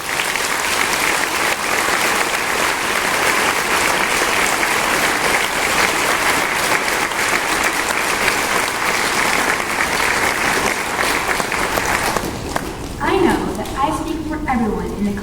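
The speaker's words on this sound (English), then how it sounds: "Please join me in a round of applause." An audience at a sixth-grade promotion ceremony at Gilmour Academy applauds at length, thick steady clapping that fades near the end as a speaker's voice returns over scattered claps.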